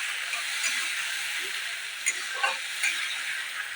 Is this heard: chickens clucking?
no